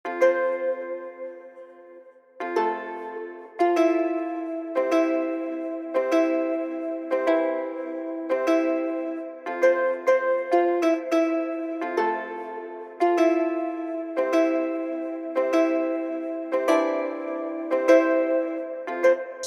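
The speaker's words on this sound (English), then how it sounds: "So that sound is a guitar sound." Plucked guitar notes from an FL Studio beat ring out in a steady rhythmic pattern, bright and clear, alone with no voice.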